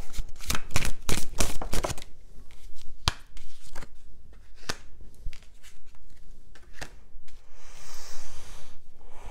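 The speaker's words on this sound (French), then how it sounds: "Tirer toutes les cartes et je vous les explique." Tarot cards riffled and shuffled in a rapid burst of sharp flutters, then slapped and drawn one by one in scattered soft snaps and slides, close and alone with no voices.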